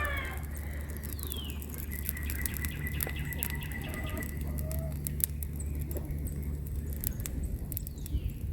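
Small birds chirp and tweet in brief, scattered calls near a large outdoor burn pile, set against a steady low rumble and crackle from the fire, with no talking.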